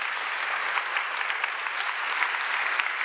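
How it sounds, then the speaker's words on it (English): Conference audience applauding panellists at a finance event, an even, moderately distant patter of many hands clapping steadily throughout, with no voices over it. "Please give them a round of applause."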